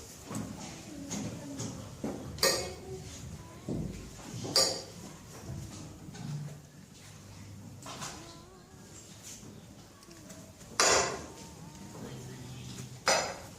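A knife cuts an apple into small pieces on a board in a classroom setting: a few sharp, separated chops and clinks over a soft, continuous background, with faint voices nearby.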